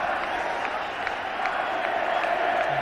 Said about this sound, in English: Rahul Dravid leaving the field to a standing ovation.